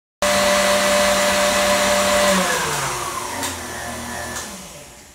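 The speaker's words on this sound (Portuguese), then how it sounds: "Para um pouquinho a nossa batedeira" An electric stand mixer beats cupcake batter, a loud close motor whine starting abruptly, then its pitch drops and wavers as the beaters slow through the thickening mix, with no talking.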